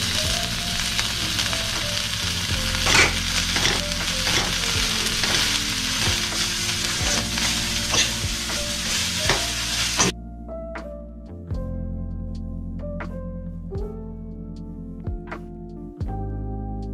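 Sambar wadi mixture sizzles and fries in a pan while a spoon stirs it, giving a close crackling hiss with scraping and ticking strokes. Partway through the frying noise drops away, leaving separate stirring clicks and taps.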